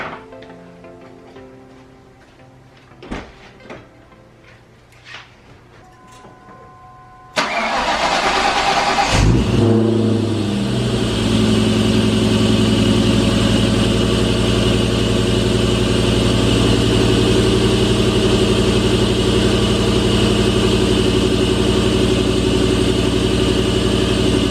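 A Cobra car engine cranks over after a few quiet clicks and knocks, then fires and settles into a loud, steady idle that runs on unbroken to the end.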